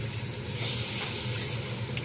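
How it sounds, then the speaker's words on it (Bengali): Hot water hits a frying spice mixture for an eggplant curry, producing a loud, continuous hissing sizzle with bubbling underneath, close up and without pause. "গরম জল দিব, কিন্তু এটা গরম জল দিলাম।"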